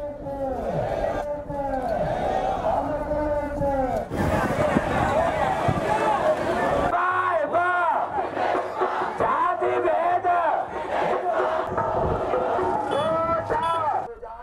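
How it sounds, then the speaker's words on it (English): Large crowd of protesters at the Gotagogama protest site, a dense continuous babble of many voices with shouts and chanting, loud and close throughout, with a steady low hum joining partway through. "Larger crowds were seen at the site today expressing their objections to the head of state"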